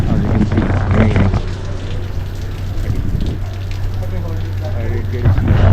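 Steady rain at Lake Nakuru, Kenya, patters and hisses loudly and evenly throughout, with a low constant hum underneath.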